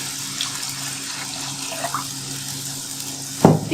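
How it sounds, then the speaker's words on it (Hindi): Water runs in a steady stream into a cooking pot of fried masala for kofta curry, with a louder splash or clatter near the end. "हम थोड़ा मज़ीद पानी डाल रहे हैं"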